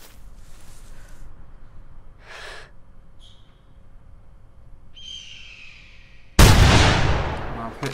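A single loud, sharp rifle shot in theHunter 2015, fired at an alpine ibex on a mountainside, bursts out near the end and decays, after quiet wind and scattered faint calls.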